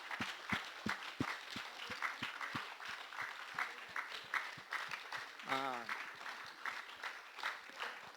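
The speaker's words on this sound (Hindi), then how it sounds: "Давайте сейчас поаплодируем друг другу от всего сердца." Applause from a small gathering at a live class in Saint Petersburg: scattered, uneven claps across the whole stretch, moderately near, with a brief voice breaking in partway through.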